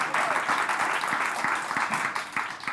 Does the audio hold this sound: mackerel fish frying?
no